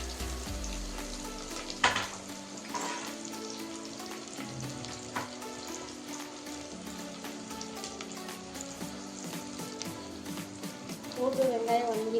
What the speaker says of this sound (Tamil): பூண்டு சேர்த்துக்கலாம். வெங்காயத்தை நல்லா வதக்கி வச்சுக்குவோம்.